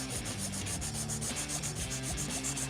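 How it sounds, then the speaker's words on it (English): Steady rubbing rasp of a 180 grit file shaping the free edge of an LED gel nail extension, continuous close-up strokes with a faint rhythmic pulse, no talking. "So the first step in our filing method is filing the free edge."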